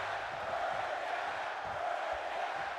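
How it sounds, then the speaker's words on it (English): A wrestling arena crowd at a Payback event cheers and roars in a dense, continuous wash of distant voices, with occasional louder whoops rising out of the steady crowd noise. "Sounds like the crowd is thoroughly behind Seth Rollins tonight."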